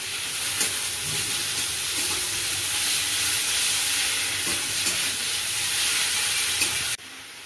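Spice paste of green chilli, dried chilli, ginger and garlic sizzles steadily in a pan while mutton curry is being cooked, a loud continuous frying hiss that cuts off abruptly near the end.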